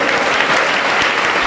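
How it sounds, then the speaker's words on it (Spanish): Church congregation clapping together in sustained, dense applause during a Spanish-language worship service, loud and continuous throughout with no gaps. "vamos a dar un fuerte aplauso para Cristo Jesús"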